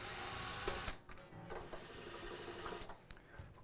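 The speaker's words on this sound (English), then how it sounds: "It just chucks into a drill like this, and it saves a lot of time." A drill fitted with a peg winder bit whirs loudly for about a second, then stops; fainter spinning and clicking follow as it runs again at lower intensity, unwinding steel strings on an acoustic guitar.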